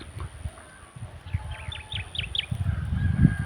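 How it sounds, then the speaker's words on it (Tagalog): Several harsh crow calls in a quick series at a distance, over rustling outdoor noise and low rumbling. "Yun, napakaraming uwak."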